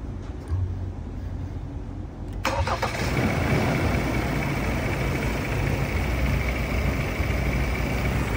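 A rebuilt Ford Ranger Raptor 2.0 engine cranks and catches after a couple of seconds of quiet, then settles into a steady, close idle that keeps running to the end.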